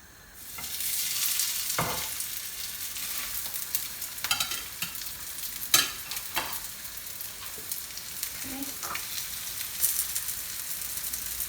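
Bean burgers fry in sunflower oil in a pan over medium heat, a steady crackling sizzle running throughout with occasional louder pops and spits, close and alone with no talk.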